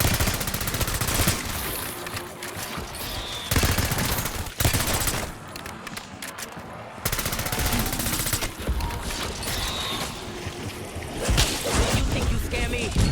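Rapid bursts of automatic gunfire from a weapon in a zombie video game, loud and dense in several stretches with brief pauses between volleys, sometimes under faint talk.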